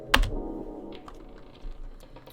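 Keyboard typing in an indie horror video game: one sharp key clack followed by a few faint scattered clicks over a low droning hum, no talk.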